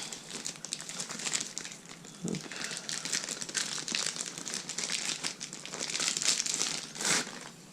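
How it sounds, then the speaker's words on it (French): Packaging of a new microphone being torn and opened: continuous close, loud crinkling and crumpling of plastic and paper with sharp bursts of tearing, alone without talk. "Voilà, dans son emballage pour l'instant. Je vais tout de suite l'ouvrir."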